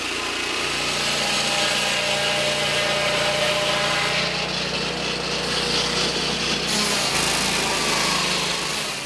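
A mobile sawmill cuts timber in a Cameroonian community forest, its engine whining loud and steady with a continuous cutting drone that stays unbroken throughout.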